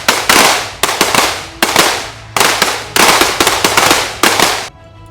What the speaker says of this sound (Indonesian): ratusan prajurit tempur Angkatan Darat melakukan latihan menembak dengan senjata sniper atau senjata runduk.